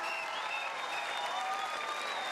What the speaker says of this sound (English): and stand and applaud